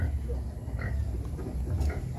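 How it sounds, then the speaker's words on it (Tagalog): Pigs on an ostrich farm in Kalibo grunt in low, close snorts amid steady outdoor rumble, with people talking nearby. "Wala, baboy talaga yan."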